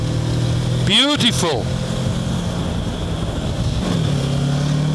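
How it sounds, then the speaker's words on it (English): A Kawasaki Versys 650 motorcycle engine revs up with a quick rising whine, then settles into a steady, loud engine drone under wind noise, while a rider exclaims briefly. "if you open up, listen to that engine"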